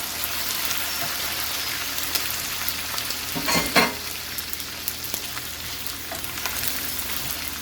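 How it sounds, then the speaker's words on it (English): Rice and shrimp fry in hot oil for shrimp fried rice, a dense continuous sizzle with crackling pops and a brief louder burst of stirring midway, no talk. "my rice is starting to really fry up"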